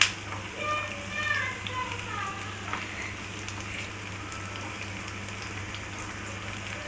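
Onions sautéing in hot oil for a goat liver gravy make a steady, moderate sizzle and crackle that runs evenly throughout, with a brief voice heard near the start.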